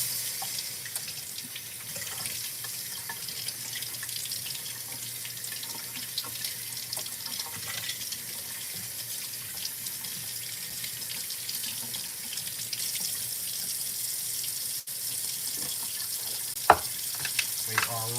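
Strawberries and grapes rinsed under a running kitchen tap during home meal prep, a steady broadband rush of water spattering onto fruit and into the sink, continuous and close throughout, with occasional small clinks.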